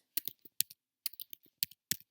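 Typing on a computer keyboard, clusters of crisp, close key clicks in short irregular bursts with small pauses between them, alone against near silence.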